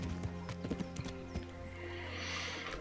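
Galloping horse in the medieval video game Kingdom Come: Deliverance, a few quick close hoofbeats that thin out into a softer wash of movement and wind.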